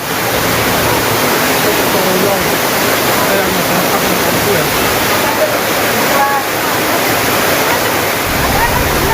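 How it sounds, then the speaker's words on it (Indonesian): Heavy rain-swollen river water rushes and roars steadily at close range during flooding in Buleleng, Bali, a dense, continuous broadband torrent with no pauses and no voices over it. "arus sungai yang sangat deras menyebabkan tembok membatas dengan sungai roboh"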